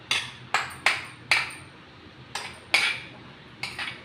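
A spoon clinks sharply against a bowl of freshly ground cucumber and carrot chutney. Separate metallic taps come at uneven intervals, close and clear, with quiet pauses between them.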